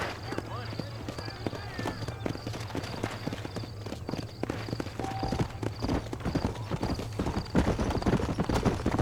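Steady clip-clop of horse hooves at a trotting rhythm in the video game Red Dead Redemption, with a low hum and faint background effects throughout.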